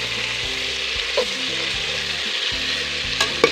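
Pork fat frying in a cooking pot, a steady broadband sizzle and crackle running without pause, with a few sharper pops toward the end and a low background hum beneath.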